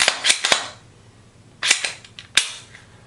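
Glock 19 Gen 4 pistol being cleared by hand, its slide racked in sharp metallic clacks: a quick cluster of three snaps, then another pair and a final single click, close and loud against a quiet room.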